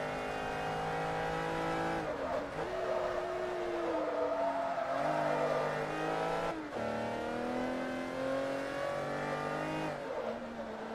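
Race car engine in the video game Forza Motorsport 3, a loud sustained drone that rises and falls as it revs and shifts gears, with pitch drops around each gear change and no talking.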